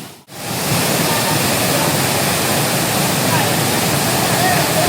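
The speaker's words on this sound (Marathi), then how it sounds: "हा धबधबा आहे." A forest waterfall roars as a constant, dense wash of falling water, loud and close, filling the whole stretch after a brief quiet start.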